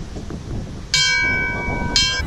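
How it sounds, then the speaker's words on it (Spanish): A happiness bell at a market in Yokohama is struck twice, each strike a loud, bright metallic clang with a long ringing tone that hangs over faint street bustle. "Campana de la felicidad."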